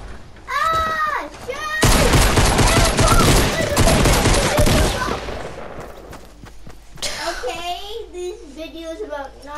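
Pistol fire in a video game comes as a dense, loud burst of rapid shots lasting a few seconds, with excited voices before and after.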